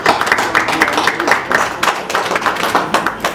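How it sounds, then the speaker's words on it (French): Journalists and guests at a Kinshasa press conference applaud to welcome Mouska, a brisk, continuous clapping of many hands with a lively uneven rhythm, close and fairly loud throughout. "je vous prie d'applaudir et d'accueillir bien fort Mouska"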